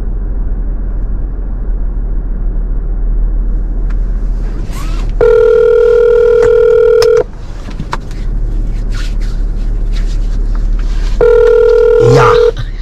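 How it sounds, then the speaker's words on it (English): Phone call ringing out on a handset, two long electronic ringback tones about six seconds apart, loud and close over steady background hum, with no voices. "I'm going to call KK right now and line it up the right and proper way."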